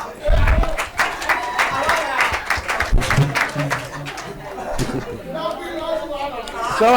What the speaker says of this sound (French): Applaudissez pour Star One